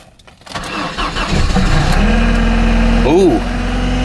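A 2007 Volkswagen Rabbit engine cold-starts after sitting for two days, cranking briefly before catching and settling into a loud, steady idle close by, with a short voice near the end.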